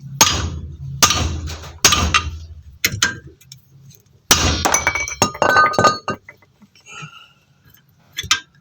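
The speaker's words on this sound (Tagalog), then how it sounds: "gagamitan natin siya ng martilyo para higpitan" Several sharp metallic hammer strikes ring out in irregular clusters while tightening a wheel part on a 2008 Toyota Sportivo, each with a bright clanging decay, separated by short quiet gaps.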